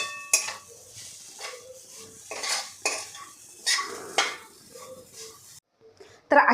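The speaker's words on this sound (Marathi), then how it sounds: "आता यामध्ये आलं आणि लसूण खोबरं सगळं घालून घेतलेलं आहे आता हे खरपूस असं आपल्याला परतून घ्यायचं आहे" Ginger, garlic, coconut and onion are sautéed in a pan, with a series of loud metal spoon scrapes and clinks against the pan over a soft, intermittent sizzle; a short sharp clatter comes at the end.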